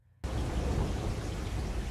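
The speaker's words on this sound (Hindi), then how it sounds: "पहली बारिश की बूंदें गिरीं।" Steady rain starts abruptly and keeps up a dense, even hiss of falling drops, loud and close, with no voices over it.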